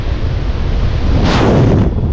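Strong wind buffets the microphone on a ridge at about 30 km/h early in the day, a loud continuous roar that swells into a harder gust near the end.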